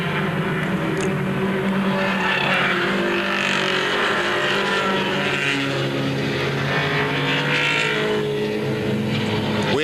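Race cars roar around Beech Ridge Motor Speedway in a 1988 qualifying heat, a dense, continuous engine drone that swells and fades as the pack passes, loud and unbroken.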